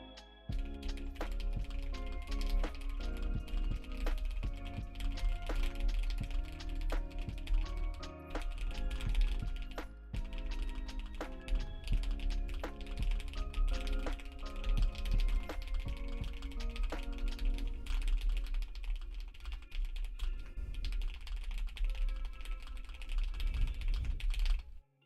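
Fast, continuous clicking of a computer keyboard during online typing races, with a dense, unbroken stream of keystrokes throughout.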